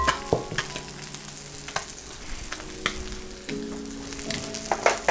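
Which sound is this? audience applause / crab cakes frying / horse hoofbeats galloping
crab cakes frying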